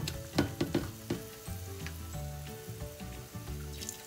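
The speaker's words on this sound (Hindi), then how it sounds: "तो जैसे आप डालेंगे वो अच्छे से फ्राई होती जाएगी।" Okra (bhindi, lady finger) frying in hot oil, a steady crackling sizzle with a few louder sputters near the start, close by, while a musical tone runs underneath; no one speaks.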